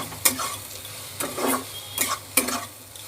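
Kashmiri chili powder and sugar being stirred in a hot pan, a low sizzle punctuated by four distinct spoon scrapes at irregular intervals, close and clear.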